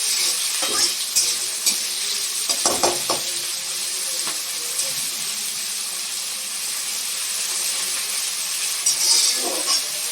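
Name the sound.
onions frying in hot oil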